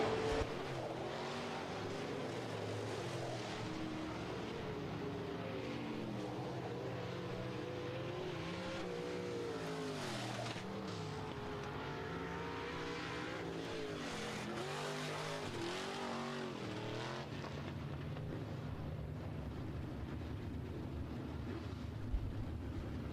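USRA B-Modified dirt-track race cars roar through a heat race at Rapid Speedway, a dense, continuous engine drone with rising and falling revs as the pack laps by, loud throughout with no talk.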